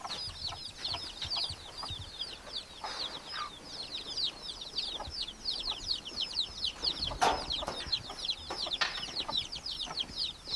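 Hens clucking, played from a recording on a record, form a dense, rapid, repetitive chatter that runs steadily throughout at a fairly faint level, with no voices.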